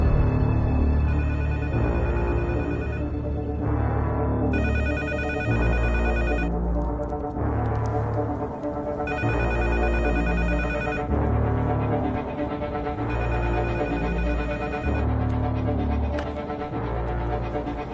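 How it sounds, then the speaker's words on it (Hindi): Telephone bell ringing in repeated bursts with short pauses between them, steady and clear over a low hum, with no voices. "फोन चलने दे, मैंने आवाज सुननी है।"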